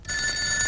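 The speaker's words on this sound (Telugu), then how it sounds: "ఆ ఫోన్ నాది. వచ్చే ఫోన్ నాకు వస్తుంది." A telephone bell rings steadily for a moment, a bright, sustained electronic ring, near and clear, with no voices over it.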